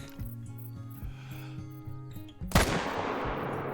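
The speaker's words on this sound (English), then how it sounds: "Or just one shot will do." A single loud rifle gunshot rings out in the hunting video game theHunter: Call of the Wild, cutting through quiet tonal ambience and leaving a long, fading reverberant tail.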